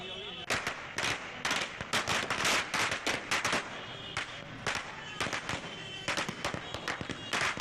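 Firecrackers burst in rapid, irregular volleys as party workers celebrate, a loud string of sharp cracks and pops going on throughout with only brief gaps.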